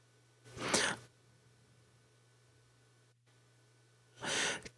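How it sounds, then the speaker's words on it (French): Two isolated breaths cut from spoken French dialogue, each a soft airy inhale or exhale about half a second long, separated by a few seconds of quiet hum. A faint low mains-like drone runs throughout. "je ne vais plus entendre ma voix, je vais juste entendre la respiration"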